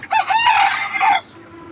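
A local desi rooster on a chicken farm gives a single loud, close crow lasting about a second, followed by quiet background.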